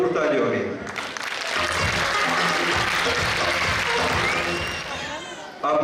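Sustained audience applause fills a school annual award ceremony, dense and loud from start to finish, with a brief dip near the end before clapping swells again.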